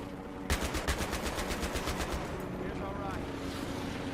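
Rapid automatic gunfire in the Battlefield 3 game, a steady rhythmic burst of about a dozen shots followed by lighter scattered fire and background battle ambience, fairly faint overall.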